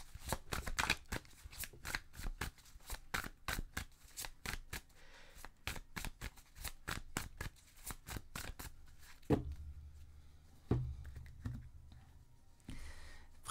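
Tarot cards shuffled by hand in a rapid run of crisp riffling flutters for most of the span, then slowing to a few separate louder slaps and handling noises, with no talk.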